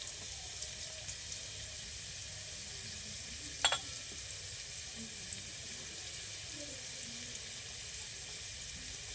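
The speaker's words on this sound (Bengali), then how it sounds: "আলুটা এদিকে ভাজা হচ্ছে" Potatoes fry in a pan with a quiet, steady sizzling hiss, broken once by a brief clatter partway through.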